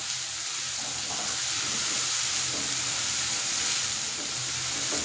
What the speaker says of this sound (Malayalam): ഇനി ഇത് നല്ലപോലെ ഇളക്കി കൊടുക്കാം കേട്ടോ